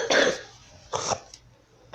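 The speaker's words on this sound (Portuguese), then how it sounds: "Se eu tiver dando tosse no meio do vídeo, desculpa." Two separate coughs from a person with a cold, close and fairly loud, with a short quiet gap between them and a faint throat catch after the second.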